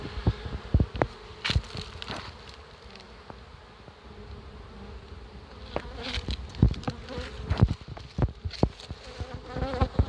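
Honey bees buzz steadily around hives at a nomadic apiary in a forest near Torchyn, Volyn region, amid blooming acacia, with sharp close passes of individual bees flying by the microphone over a continuous swarm hum.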